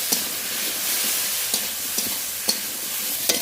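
Kochur loti, chopped taro stolons, fries in oil tempered with whole cumin and is stirred with a spatula, giving a steady sizzle broken by sharp scraping clacks every half second or so.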